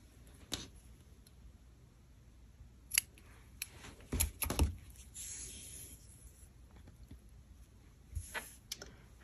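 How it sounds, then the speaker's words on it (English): Scissors trimming loose crochet yarn ends, a few quiet, sharp snips spaced apart over faint background hiss. "So come in here with your scissors"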